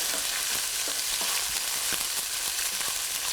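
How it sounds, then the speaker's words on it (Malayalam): Green chilies, garlic and curry leaves sautéing in a hot pan for a prawn and tapioca biryani, a steady loud sizzle with scattered soft scrapes of a spoon stirring, close and without talk. "പച്ചമുളക്, വെളുത്തുള്ളി, കറിവേപ്പില എന്നിവയിട്ട് വഴറ്റുക."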